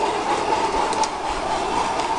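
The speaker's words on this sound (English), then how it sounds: "Do you like this train?" A model train runs on a garden railway, giving a steady, fairly loud mechanical hum and rattle that continues without a break through the short stretch.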